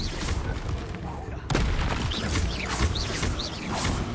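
A spell blast from Hogwarts Legacy, heard as a sudden booming hit followed by sustained crackling, whooshing magic effects, with a voice speaking over the combat noise.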